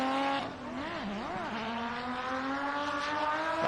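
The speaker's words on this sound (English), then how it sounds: "Big angle, lots of smoke, lots of revs. Oh, lots of clutch jumps, you can hear it there." RB20-engined drift car at a circuit event, its engine revving hard with wavering pitch as clutch kicks jerk the revs up and down, then a sustained high drone, heard from a distance.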